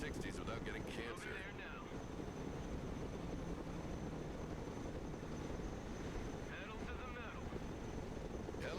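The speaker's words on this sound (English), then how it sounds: "Helicopters are impressive machines. Yeah. Boy, are they noisy." A helicopter in the Broken Arrow video game drones with a steady, loud engine and rotor roar that fills the whole stretch without letup.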